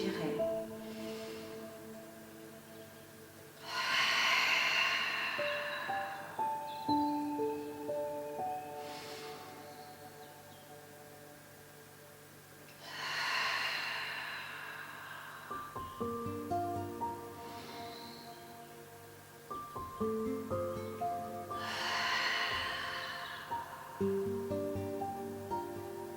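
Slow, deliberate breaths in and out during a Pilates exercise, three long airy swells spaced several seconds apart over soft background music.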